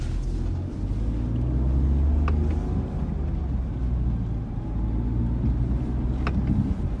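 A Smart car MHD with automatic engine start pulls away in first gear, its low engine rumble steady and close throughout, with a couple of faint higher clicks and no talking.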